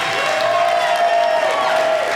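A roomful of entrepreneurs at a shop talk event bursts into a brief, dense round of applause and crowd noise, loud and steady throughout.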